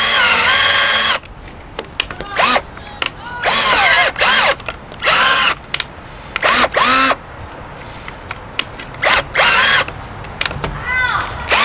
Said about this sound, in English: Make sure your drill bit's secure or you'll run into this problem.